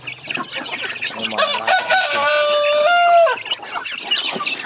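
Native chickens on a backyard farm, a rooster giving a loud, drawn-out crow in the middle while hens cluck steadily all around, close and busy throughout.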